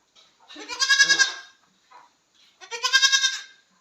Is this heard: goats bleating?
yes